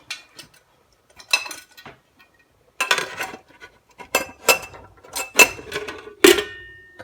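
A utensil clinks and scrapes against a pot of cabbage soup in sharp, irregular bursts, then a metal lid clatters shut, all close and clear with quiet gaps between.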